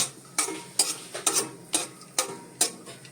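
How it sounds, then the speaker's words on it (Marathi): A small handful of peanuts roasting in ghee in a pan and stirred, producing about eight evenly spaced, crisp scrape-and-rattle strokes over a faint sizzle, with no speech. "मी हे शेंगदाणे टाकतोय आणि हे जरासे भाजून घेतोय."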